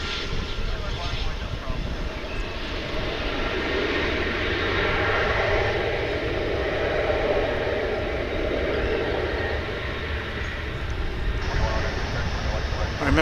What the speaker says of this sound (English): this one is flight 1658, an A319 coming in from the southernmost tip of the United States continent